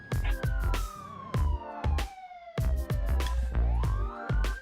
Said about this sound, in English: Do I hear sirens? Yeah, I hear sirens.